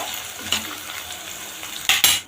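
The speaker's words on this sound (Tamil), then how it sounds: "இதோட நம்ம தக்காளியையும் சேர்த்துக்கலாம் சேர்த்து அதையும் ஒன்றா நல்லா வந்து வதக்கி விட்டுக்கலாம்" Onion and tomato sautéing in a pan for a mashed potato dish: a soft steady sizzle with a few sharp spatula scrapes and taps, the loudest near the end, with no talking.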